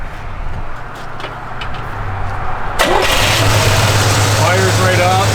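A 1978 Chevrolet El Camino SS V8 cranks briefly and catches near the three-second mark, then settles into a steady, loud rumbling idle close by, after a quiet stretch of low background hum.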